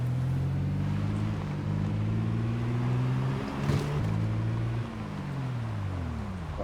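A car drives in the zombie survival game Project Zomboid, its engine droning steadily with a low harmonic hum that shifts pitch as it revs up and down, with a brief louder rattle midway.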